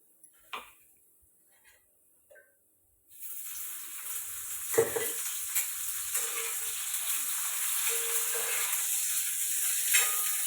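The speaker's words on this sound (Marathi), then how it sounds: "कांदा भाजून घेते" Onion frying in a pan for a spicy mutton curry masala: a few faint clicks, then a sudden loud, steady sizzle that continues close up with occasional stirring knocks.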